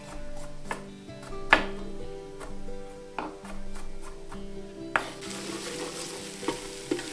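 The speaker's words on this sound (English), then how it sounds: "Onions are already looking translucent, which is great. Now I can add the garlic." Garlic goes into a pan of translucent onions frying for homemade maple-sweetened ketchup, giving a steady close sizzle with repeated utensil scrapes and knocks against the pan, and a brief rise in frying hiss near the end.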